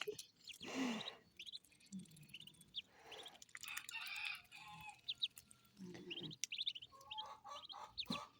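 Scattered clucks and chirpy calls from several chickens nearby in a Ukrainian village, with short bursts and pauses, some louder squawks standing out against quiet background.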